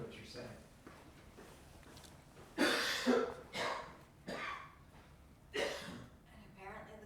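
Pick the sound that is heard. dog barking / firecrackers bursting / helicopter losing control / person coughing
person coughing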